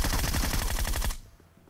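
Rapid automatic gunfire from a weapon in the mobile battle royale game PUBG Mobile, a fast burst of close, loud shots lasting about a second before cutting off to near quiet.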